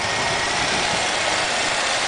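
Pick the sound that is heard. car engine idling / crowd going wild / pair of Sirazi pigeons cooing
car engine idling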